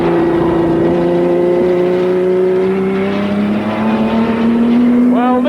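A Porsche 917 race car engine drones loudly and steadily, its pitch creeping upward as it runs, ending in a brief rising rev.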